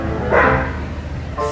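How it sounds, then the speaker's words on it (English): A dog barks once or twice at close range outdoors in a yard, a short loud burst over a low background hum, followed by quiet. "And of course, Pepper's barking."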